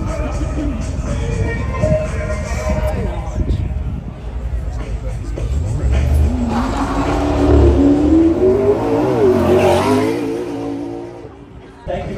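A McLaren P1 hypercar at a festival of speed revs and pulls away, with a loud rising and falling engine roar over crowd noise and people talking nearby.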